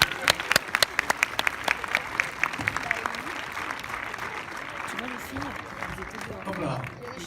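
A cinema premiere audience in Lyon applauds the arriving film director, sharp close claps at first that settle into steadier crowd applause, with voices talking over it toward the end.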